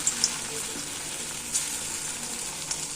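Cheese balls fry in a kadai of hot oil on a stove, giving a steady close sizzle with a few small sharp pops and crackles scattered through it, and no voices.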